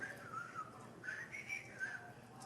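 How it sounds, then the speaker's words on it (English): A person whistles a wavering, melodic tune at a 2600 hertz tone, fairly quiet and close, with notes sliding up and down over a couple of seconds. "He happens to whistle at 2600 hertz tone"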